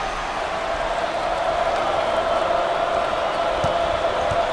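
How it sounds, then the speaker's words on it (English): A basketball arena crowd in NCAA Basketball 10, Hawaii Rainbow Warriors against Maryland, keeps up a steady, loud chanting roar with no breaks, plus a couple of faint thumps underneath. "As the crowd continues to chant"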